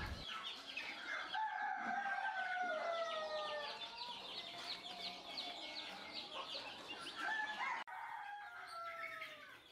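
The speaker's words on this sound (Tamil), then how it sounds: "இது ஆல்ரெடி சேல் போக மீதி வந்து நம்ம வச்சுருந்த நிக்கோபாரி நாட்டுக்கோழி சிக்ஸு" Young Nicobari country chickens kept in a partitioned brooding pen on a poultry farm, chirping and clucking continuously up close, with overlapping calls and a brief break near the end.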